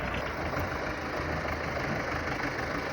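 A tractor engine runs steadily in third gear while pulling a disc harrow across a field, a continuous loud mid-to-low rumble with no pauses and no voices.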